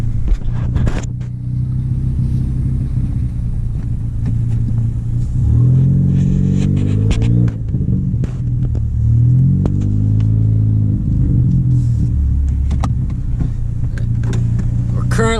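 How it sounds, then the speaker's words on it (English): Engine of a 2015 Ford Focus ST heard from inside while driving, a loud steady low rumble that swells twice as the car accelerates and revs, with brief voices and cabin noises over it. "2015 Ford Focus ST, and it's pretty loud"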